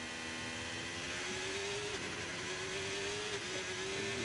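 F1 race car engine in an F1 video game at the Chinese circuit, revving high and steady with a rising, wavering pitch that dips briefly around mid-run, loud and continuous with no talk.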